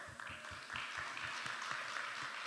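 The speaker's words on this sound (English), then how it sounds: "Please give a round of applause for Greg." Audience applause at a tech conference talk in a ballroom, a steady patter of many hands clapping, fairly distant and soft, continuing without break.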